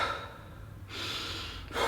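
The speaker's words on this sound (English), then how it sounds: "But it's just deep breathing." Deep, controlled breathing of the kind fighters use, in through the nose and out through the mouth, comes as a few slow, close, airy breaths with no talk.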